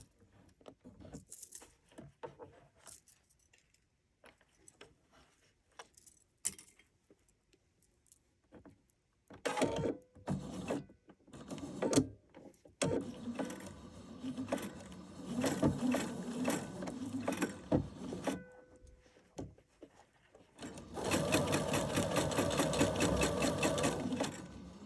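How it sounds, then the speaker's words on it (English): A sewing machine with a 6mm foot stitches a 3/8 inch seam in a welder's cap, running in bursts of steady whirring with short pauses, then a sustained final run, loud and close with no talk. "when we're stitching this 3/8 inch seam, the right edge of the foot, of the 6mm foot, is riding right along the edge of the raw edges"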